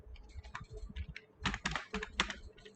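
Java code being typed on a computer keyboard: close, irregular clusters of clicking keystrokes, quiet at first and then in quicker, louder bursts, with no talking.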